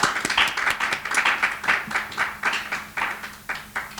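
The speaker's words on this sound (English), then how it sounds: "So if we could all give them a big round of applause for being here." A small audience at a poetry reading in Portland, Maine gives a round of applause, uneven rhythmic clapping from a modest crowd, fairly close and without speech.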